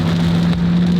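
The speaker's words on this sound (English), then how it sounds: "Feel the rain." Steady rain pours down outdoors in hot, sticky weather, a dense continuous hiss of drops with a low hum beneath, alone without talk.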